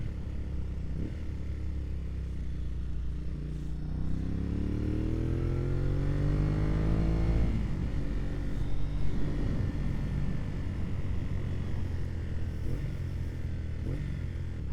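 Honda VT250 Spada motorcycle riding along a tree-shaded road, engine note rising through a gear then dropping and blipping as it downshifts, steady wind rush throughout, no speech.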